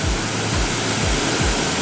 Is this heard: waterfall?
yes